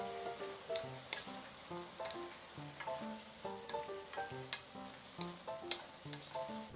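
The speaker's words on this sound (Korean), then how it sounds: "깨를 넉넉히 넣고 한 번 더 볶아주세요" Seasoned namul stir-fried in a pan with perilla oil and a generous handful of sesame seeds gives a steady sizzle with frequent sharp clinks and scrapes of a utensil against the pan, close and moderately loud, with no talking.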